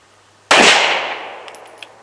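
A pistol fires a full metal jacket round into an FBI ballistic gel block: one sharp, loud shot bursts at once, then a long decaying ring, with a few faint clinks near the end.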